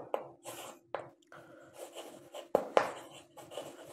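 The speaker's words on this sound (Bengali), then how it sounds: "তাহলে লিখবো আমরা" A pen writes numbers by hand on paper, making close, quiet scratching strokes in short irregular bursts with brief taps and pauses between them.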